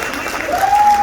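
Audience applause at the Youmacon 2021 closing ceremony, a steady wash of clapping and crowd noise that swells slightly over about a second, with a faint tone running beneath it.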